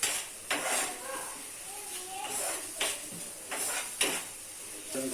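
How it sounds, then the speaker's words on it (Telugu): Onions frying in a pan for chicken biryani, a soft hissing sizzle broken by repeated scraping and clanking of a utensil against the pan every second or so. "ఆనియన్ వేగుతున్నాయి, కొంచెం గోల్డెన్ కలర్ లో వచ్చేంత వరకు వేయించుకోవాలి"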